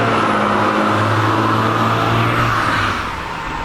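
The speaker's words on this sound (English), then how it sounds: "Damn truck, get a muffler." A truck with a loud exhaust and no muffler rumbling past nearby on a residential street, a steady heavy drone that fades slightly at the end.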